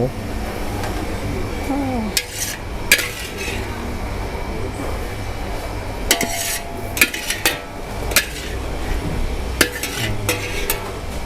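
Pork skin stir-fried in a pan, a steady sizzle under intermittent scraping and clinking of a spatula against the metal, close up, with talk over the cooking.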